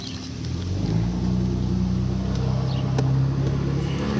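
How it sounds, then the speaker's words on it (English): A small diesel pickup truck nearby starts up and its engine settles into a loud, steady rumbling idle with a slight rise in revs, heard outdoors. "There's my neighbor starting his little diesel pickup"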